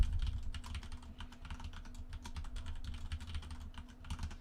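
Rapid, uneven clicking of keys on a computer keyboard as an email address is entered, steady and close with brief pauses between bursts, no voices.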